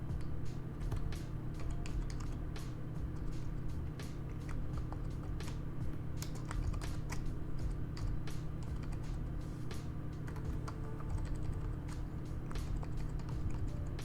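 Light, scattered clicks of a computer keyboard tap along irregularly throughout, close and fairly soft, over a steady low hum.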